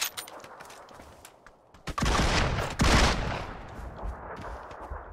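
Gunfire erupts in a video game, with loud overlapping bursts and sharp sniper cracks swelling midway and tailing into a dense rolling clatter with no voices.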